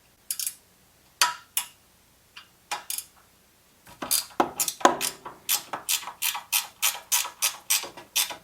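Ratchet wrench with a 12 mm socket backing out bracket bolts that hold the air filter assembly on a Toro mower's Kawasaki engine: a few scattered clicking bursts, then a fast, steady run of close, crisp ratcheting clicks.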